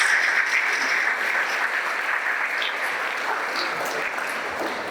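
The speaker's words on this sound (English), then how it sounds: "A huge round of applause to my parents." An audience at a school valedictory ceremony claps in sustained applause, a dense, even patter that starts loud and fades slightly over several seconds, with faint voices underneath.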